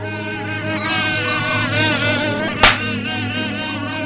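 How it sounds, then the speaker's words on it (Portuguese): A mosquito whines steadily and close throughout a scene from a horror manga, its high thin buzz wavering in pitch, with a brief sharp smack or hit near the end. "Um mosquito voa próximo a Mishina."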